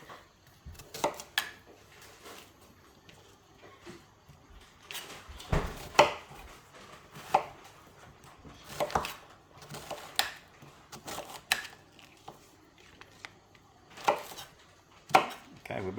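A knife chopping onion into chunks on a board, bursts of quick close knocks separated by pauses, loud and crisp, with occasional softer clatter and no voices.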